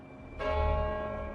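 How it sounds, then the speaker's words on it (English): A deep church bell of St Paul's in London strikes once and rings out with a sustained, humming resonance over a faint bright tone, alone and moderately distant. "In London, the bells of St. Paul's rang out,"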